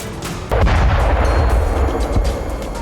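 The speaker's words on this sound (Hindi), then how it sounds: "पानी में धमाके हो रहे हैं।" Explosions going off in the sea during a Chinese naval night-time attack drill: a loud, deep boom hits about halfway through and rumbles on, with continuous heavy low-end blasts and no talk.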